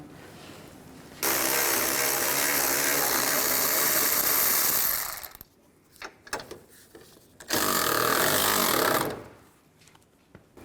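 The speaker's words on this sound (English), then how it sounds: "Take the nuts off the upper strut mount." Power socket wrench spinning off the upper strut mount nuts on a Chevy Traverse, two sustained buzzing whirs of several seconds each, separated by a pause with light clinks of metal.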